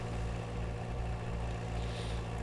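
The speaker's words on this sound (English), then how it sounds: "I've got my little tractor. It sounds fabulous. I just love to listen to it run." Small tractor engine in Farming Simulator 19 running at a steady idle, a continuous low mechanical hum with no breaks, fairly quiet and alone.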